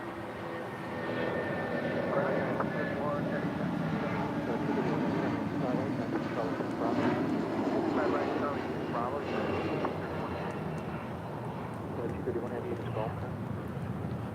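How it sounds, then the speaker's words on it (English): A United Boeing 757-200 departs LAX bound for Newark, its jet engines a steady, loud broadband roar that holds for the whole stretch at a busy airport, with voices talking faintly underneath. "That was United 251 departing to Newark on a 757-200."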